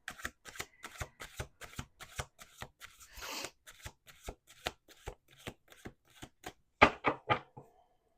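Tarot cards being shuffled in a steady run of crisp riffling snaps, a brief louder cascade in the middle and a final flurry of bridging flutters near the end, all close and alone with no talk.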